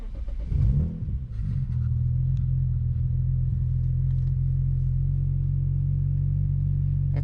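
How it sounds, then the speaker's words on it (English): A BMW 335xi with the N54 twin-turbo engine settles into a steady, smooth low idle after a brief rev and rumble at the start, the close, even drone continuing without talk. "she's idling a lot better. A lot smoother."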